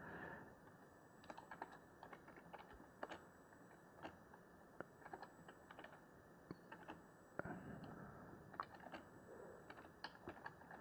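Typing on a computer keyboard, a steady run of close, crisp key clicks in irregular bursts with brief pauses, heard alone without speech.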